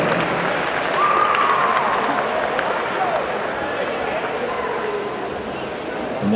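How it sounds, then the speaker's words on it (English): A crowd at a swimming championship applauds senior swimmers from Fordham Prep, a broad, steady wash of clapping, with a voice speaking over it and a few brief shouts. "Let's have a big round of applause for the Fordham Prep senior swimmer."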